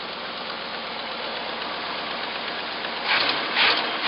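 A junkyard Jeep J7 hot-rod rock crawler with a newly refitted carburetor idles with a steady rough drone, then revs up in two quick bursts near the end.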